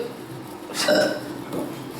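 An interactive exhibit at a human-body exhibition in Kyiv plays a loud, rough burp lasting about half a second, heard over a noisy indoor room murmur.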